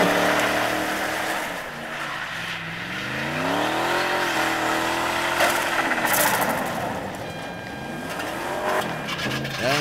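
An early model Holden Commodore does a pit lane burnout at Easternats, its engine roaring at high revs while the tyres squeal and shred continuously, loud and close, with no talk over it.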